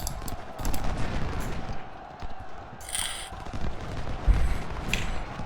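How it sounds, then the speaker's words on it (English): Gunfire rattles through a battle in the Ultimate General: Civil War video game, a steady crackle of distant volleys with a sharper, louder burst partway through, and no voices. "They are shooting quite a bit."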